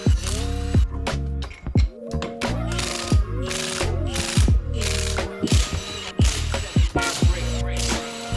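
A ratchet tightens lug nuts onto wheel studs, its loud rapid clicking running in repeated bursts with short pauses, close by and alone.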